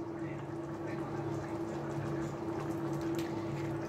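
Ground meat and plantain picadillo boils in a pot with a steady bubbling burble and a constant low hum, close and moderately loud.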